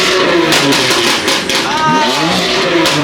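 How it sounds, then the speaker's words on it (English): A supercharged Ferrari engine revs loudly up close, rising in pitch as it climbs over a dense, roaring mechanical background. "The supercharger is hella loud from the front"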